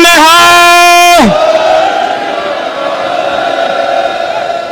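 A lone amplified voice holds a long shouted call at a farmers' protest site at the Kundli border, then a large crowd answers with a loud, roaring Sikh jakara that trails off into sustained distant shouting.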